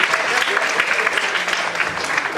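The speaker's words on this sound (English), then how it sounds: "can we hear a loud round of applause to the living legend?" Loud crowd applause at a 94th birthday celebration honoring Ram Jethmalani, continuous dense clapping from a large audience with voices underneath.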